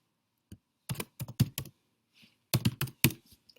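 Two quick clusters of mouse or key clicks while placing markers in fence planning software, crisp and close with a short silent gap between the bursts.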